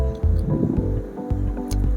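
A steel tiffin box dusted with semolina (suji) being tapped in a home kitchen, a series of soft, dull knocks and shuffling thumps spread unevenly over two seconds, close by and moderately loud.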